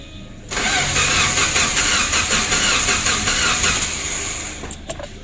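A Suzuki Carry 1.5 injection engine cranks without catching, the starter whirring loudly and continuously for about four seconds before cutting off with a few clicks.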